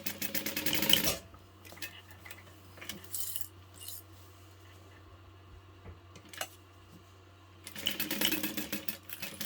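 Sewing machine stitching the seams of a beauty bag, short bursts of rapid running stitches at the start and end with quieter handling and clicks between.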